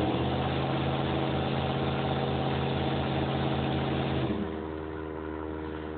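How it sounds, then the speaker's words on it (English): A black pickup truck's engine revs hard and steady while mudding through creek water, a loud, deep droning roar that drops to a lower idle near the end. "She's learning how to mob her new truck."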